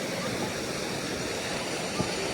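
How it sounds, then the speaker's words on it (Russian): A powerful waterfall in Odessa pours with a loud, dense and unbroken rush of water close by, the roar steady throughout. "посмотрите, какой здесь водопад. Поток такой, что может снести."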